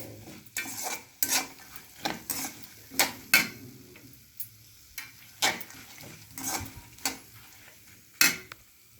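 Ingredients for healthy laddu frying in a pan, with a rhythmic series of scrapes and taps from the spoon about once a second over a faint sizzle. Nobody speaks.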